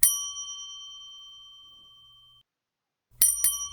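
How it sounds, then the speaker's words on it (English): A doorbell chime in the Dwarf Fortress video game signals arriving visitors: one clear bell-like ding rings out and decays slowly, then after a brief silence two quick, bright dings follow, with no talk. "So they're ringing the doorbell."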